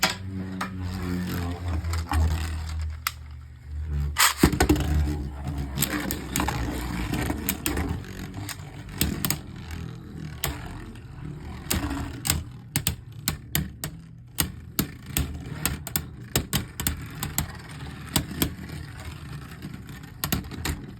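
A Hasbro Beyblade Burst top, Nightmare Luinor, spins in a plastic stadium after launch. A loud launch whir gives way to a steady rattling spin, followed by a long run of quick, sharp clacks as it strikes the walls.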